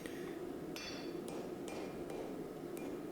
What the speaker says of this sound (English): you can even take it to the anvil and hit it with a hammer, and you can feel it come together on the anvil.